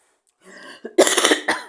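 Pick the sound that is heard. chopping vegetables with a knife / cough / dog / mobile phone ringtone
cough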